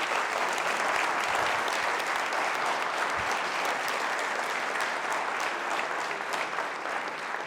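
A sustained, dense round of applause fills the room for the lead recruit training officer at a recruit class ceremony, steady and loud from start to finish with no talking over it.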